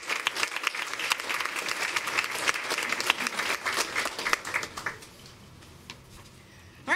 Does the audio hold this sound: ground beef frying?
no